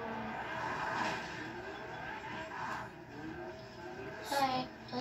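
A car drives in the video game Fortnite, its engine humming and revving under faint tire noise while a voice talks over it in bursts, ending with a short sharp high-pitched effect.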